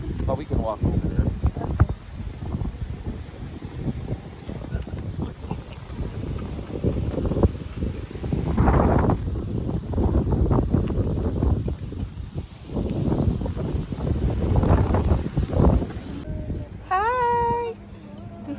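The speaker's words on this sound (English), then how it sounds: "It's so windy." Strong gusting wind buffets the microphone on the shore of Lake Michigan in Wisconsin, a steady roar that swells and surges throughout, with voices talking faintly in the background.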